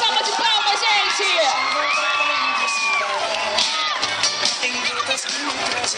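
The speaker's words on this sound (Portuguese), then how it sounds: "Uma salva de palmas, gente!" A lively crowd cheers, whoops and shouts at a cosplay parade, continuous and loud throughout, with a voice over a loudspeaker and shrill yells mixed in.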